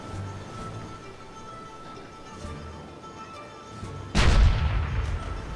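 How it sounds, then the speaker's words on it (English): Cannon shot from a pirate ship in the game Wind of Luck Arena: a single sudden loud boom that rolls off with a rumbling tail, after several seconds of quiet background music. "the cannon shot was premature"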